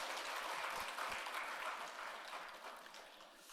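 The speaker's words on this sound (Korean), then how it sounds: "우리 환영의 박수 하겠습니다." A church congregation claps in welcome during a Sunday worship service, a dense, fairly soft wash of applause that holds steady and then tapers slightly toward the end.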